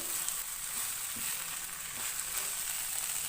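Lengthwise-chopped bell pepper sizzling and being stirred in a hot pan for an iftar noodle dish, a close, steady frying hiss with faint scrapes of stirring.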